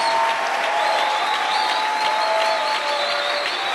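A church congregation applauding steadily during worship, dense continuous clapping filling the room with voices and faint tonal sounds mixed in, loud and unbroken throughout.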